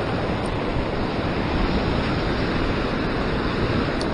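Ocean surf breaking on a shore during sea fishing near Sydney, Australia, a steady broadband wash of waves with wind that holds constant and loud for the whole stretch, with no voices over it.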